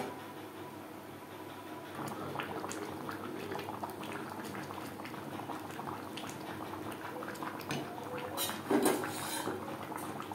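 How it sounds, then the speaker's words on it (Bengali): Aloo chicken bubbles in its gravy, a steady low boil with occasional soft pot clinks, no voices over it. "গ্রেভির সাথে 3-4 মিনিট বেশ ভালো করে ফুটিয়ে নেব।"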